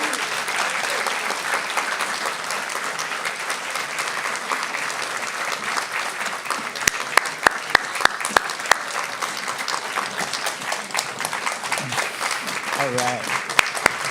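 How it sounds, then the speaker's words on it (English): An audience applauds storytellers called back onto a stage at an event about a warming world, with steady sustained clapping throughout and a brief spoken remark near the end. "Please give them all another round of applause."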